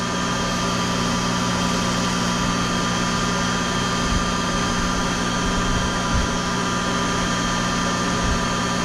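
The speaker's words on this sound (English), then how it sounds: "Machine's running nice and smooth." A high speed lathe runs steadily, with a continuous close-up mechanical hum and whine holding at one level and no voices over it.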